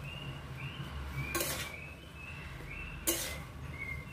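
A metal spoon stirs salt and turmeric into boiling bottle gourd in a pot, giving two sharp scraping clinks against the pan over a quiet simmer and faint kitchen background.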